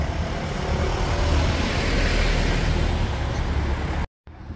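A truck rolls through the narrow Breites Tor gate, a steady, close rumble of engine and tires that holds loud throughout and then cuts off abruptly near the end.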